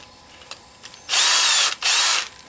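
A power drill set in reverse backs fasteners out of a scrapped shop fan with a copper motor, giving a few faint clicks and then two loud, close whirring bursts.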